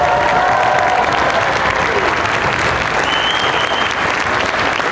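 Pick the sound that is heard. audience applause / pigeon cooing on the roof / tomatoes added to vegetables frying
audience applause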